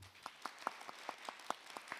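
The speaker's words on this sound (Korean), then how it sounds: "큰 박수 부탁드립니다." A conference audience at GEEF 2025 gives a short burst of sparse applause, with around ten distinct claps spread over two seconds. The clapping is faint and somewhat distant.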